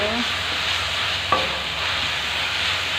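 Onions and tomatoes sizzle steadily in a pan for paneer bhurji, a soft continuous frying hiss with one brief clink of a utensil partway through.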